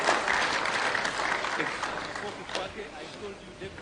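Audience at a eulogy for Moi breaking into sustained applause, a dense wash of clapping from a large crowd that slowly thins toward the end, with a few voices mixed in.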